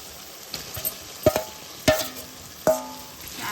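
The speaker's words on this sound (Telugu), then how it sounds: "చేపలు వేసుకొని ఒక్క నిమిషం ఇలా కలుపుకోవాలి" Small fish coated in chili powder, salt and ginger-garlic paste are stirred in a pan over a medium flame, with a faint fry under a few sharp metallic clinks and scrapes of the spoon against the pan.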